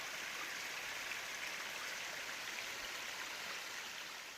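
A cold mountain stream rushes downhill along a spring hiking trail, a continuous, dense watery hiss and babble heard close and steady with no voices.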